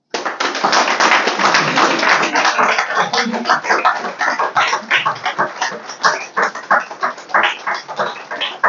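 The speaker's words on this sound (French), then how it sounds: "Et vous pouvez vous applaudir." Audience applause at a political rally in Côte d'Ivoire, steady dense clapping from a crowd that carries on throughout, thinning into more distinct individual claps toward the end.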